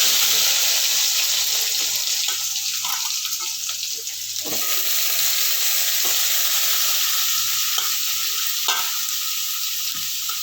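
Onions and green chillies frying in a pan, a loud, continuous close sizzle with occasional stirring scrapes and clinks, no talking.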